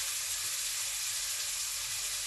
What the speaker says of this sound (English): we are caramelizing the onions and the pepper